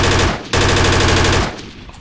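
Sustained automatic gunfire in the tactical shooter Project Reality, loud and close, a rapid burst lasting about a second and a half before tailing off into quieter rattling.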